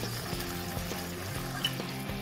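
Water poured from a cup into a pan of vermicelli for upma, a soft steady splashing and faint sizzle, quiet and continuous.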